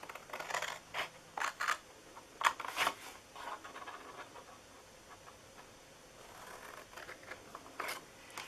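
Scissors snipping through paper while cutting out a gift card holder, a few short close cuts in quick bursts followed by quieter rustling and handling, with no talk.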